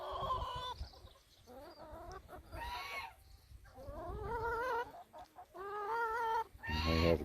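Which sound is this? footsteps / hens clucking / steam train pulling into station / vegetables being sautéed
hens clucking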